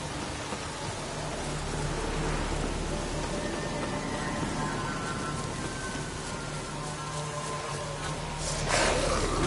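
Steady rainfall hisses throughout, dense and even, with faint tonal hums beneath and a brief brighter swell near the end.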